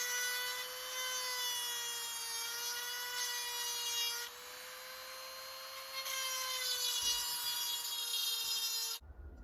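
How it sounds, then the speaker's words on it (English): A hand file is drawn across the cutting teeth of a small battery-powered chainsaw chain, making a continuous close scraping with a sustained metallic ringing tone that briefly dips and then resumes before cutting off. "now that we've filed all the teeth that are going this direction"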